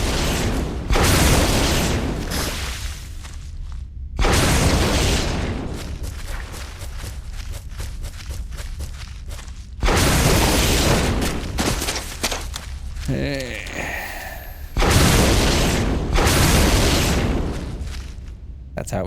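Gunshots fired at spider webs in the video game Resident Evil HD, four loud booming blasts spaced several seconds apart, each with a long decaying tail and clatter between them.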